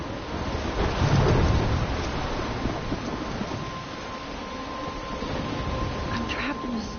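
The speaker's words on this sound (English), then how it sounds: "I'm trapped in a storm?" A video game storm rolls on with surging waves and gusting wind, a dense roar that swells early and then settles into a steady wash at moderate level.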